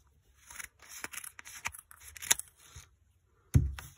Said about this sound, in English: We'll cut them all at once.